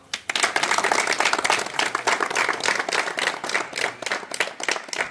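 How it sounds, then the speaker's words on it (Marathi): An audience at a National Skills Day event clapping in welcome, a dense, lively round of applause that starts abruptly and carries on steadily, near and loud without talk. "आम्ही आज राष्ट्रीय कौशल्य दिन या ठिकाणी टाळ्या वाजवून स्वागत करत आहोत"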